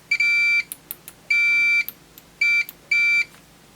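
A Fluke 289 multimeter in diode mode gives four loud, steady electronic beeps of uneven length, separated by short gaps and a few faint clicks.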